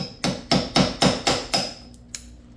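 A hammer strikes a metal punch to drive leftover rivets out of a Yamaha WaveRunner rear corner rub rail cap: six sharp, evenly spaced clanging blows followed by two lighter taps, close and ringing.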